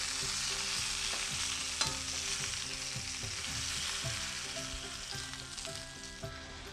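Meat browns in a frying pan, sizzling steadily and loudly across the whole stretch with faint stirring scrapes and a low tonal hum underneath; no one speaks.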